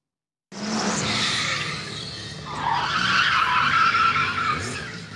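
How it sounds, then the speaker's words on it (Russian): Drift cars skid across a race track in Vinnytsia, tires shrieking over roaring engines in a loud, continuous wash that swells in the second half as another car slides through. "Рев моторов и запах жженой резины. Это автогонщики соревнуются в мастерстве маневренности на огромной скорости."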